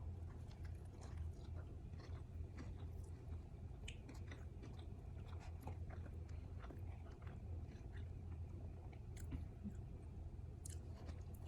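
Close, quiet chewing of a Chick-fil-A honey chicken sandwich, soft wet bites and mastication repeating steadily with no talking.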